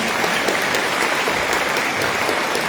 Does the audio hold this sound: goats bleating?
no